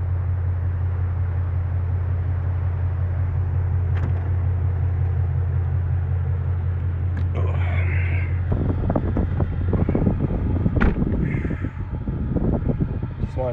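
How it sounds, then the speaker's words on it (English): Inside a moving car, a constant low road and engine rumble fills the cabin with some wind buffeting, while crows caw outside in the later part amid scattered clicks and knocks. "You can see me driving in the car."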